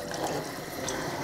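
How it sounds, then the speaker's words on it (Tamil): Water poured into a barracuda fish curry during cooking, a steady close liquid splash and trickle lasting about a second. "இந்த குழம்புக்கு அதோட சேர்த்து 1 கப் தண்ணி சேர்த்து"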